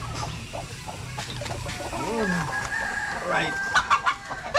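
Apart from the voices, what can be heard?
newly hatched chicks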